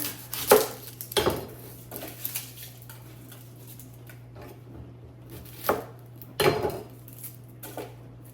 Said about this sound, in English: gonna chop an onion